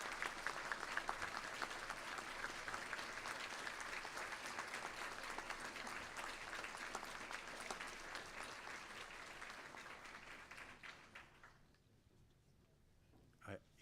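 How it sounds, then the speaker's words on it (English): Audience at a 2022 Griffith College graduation ceremony applauds and cheers in a dense, sustained wave of clapping for about eleven seconds, then it quickly dies away to near quiet. "applause, cheers,"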